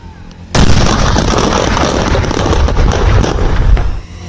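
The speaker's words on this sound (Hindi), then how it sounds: "कोर्ट के आदेश के बाद प्रशासन ने विस्फोटकों को दमोह के पास पहाड़ी पर डिफ्यूज कर दिया।" Seized illegal firecrackers and gunpowder detonated for disposal on a hillside near Damoh, India: a sudden loud blast erupts into a long, dense crackling roar that lasts several seconds and then cuts off.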